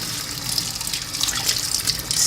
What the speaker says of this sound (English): rinse well under the warm running water.